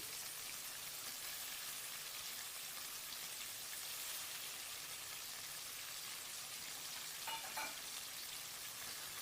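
Vegetables with chopped eggplant frying for Kathiyawadi chapdi undhiyu: a steady, dense hiss of oil sizzling, with a brief stir of the pan near the end.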